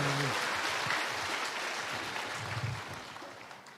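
An audience applauding to welcome a speaker at a gathering in Gyeongju, a steady wash of clapping that gradually fades, with a voice briefly heard at the start.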